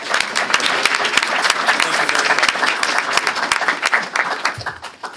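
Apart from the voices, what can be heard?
applause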